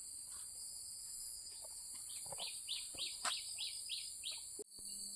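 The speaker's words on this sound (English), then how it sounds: "listen to the sweet, melodious songs of the birds." Birds chirp in a valley on a morning walk after rain, a run of quick repeated calls with a steady insect-like drone underneath, faint and outdoors.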